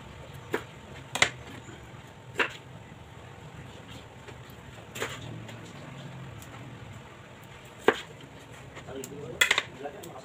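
Knife strokes cutting cauliflower florets on a board in a home kitchen, a handful of sharp separate taps and thunks spaced irregularly over faint background noise, no talk.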